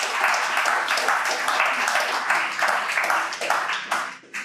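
A church congregation claps and cheers in steady, dense applause that fills the room, with voices mixed into it, then tapers off at the end.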